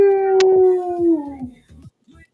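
A voice imitates a dog-like howl during a fantasy tabletop game, one long wavering cry that slides downward and breaks into a few short yips before trailing off.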